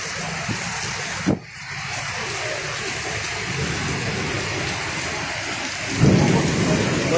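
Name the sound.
heavy rain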